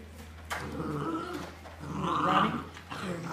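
Otterhound puppies growl and scuffle while playing crammed into a small indoor space, with rough overlapping growls rising and falling in bursts, close and fairly loud.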